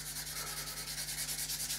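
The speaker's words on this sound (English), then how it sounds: "I'm just going to get one of my slightly rougher, the purple sanding stick." A rough purple sanding stick is worked back and forth over a model aircraft's rear fairing, making close, steady rhythmic rasping strokes in quick succession with no talking.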